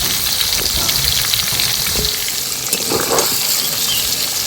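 Mango pieces fry in hot oil for a pickle, producing a loud, continuous sizzle close by, with some stirring scrapes and bubbling as moisture cooks off.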